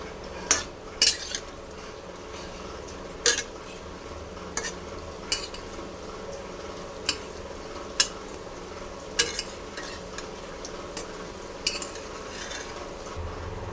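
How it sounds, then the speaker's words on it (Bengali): Red lentil fritters fry in a pan with a low, steady sizzle, while a utensil clinks sharply against the pan about a dozen times at irregular intervals; no one talks. "এর এটাকেও লাল করে ভেজে নেব।"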